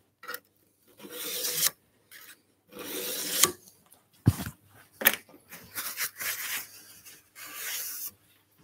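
A file rasps in repeated bursts across a garden tool's edge while sharpening it in a woodworking setting, strokes close and fairly loud with short pauses between passes.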